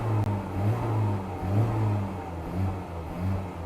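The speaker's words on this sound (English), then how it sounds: "you can hear the engine." A 2023 Honda Civic Type R engine idles steadily nearby with a deep bass rumble, rising slightly in gentle surges, with a faint turbocharger sound.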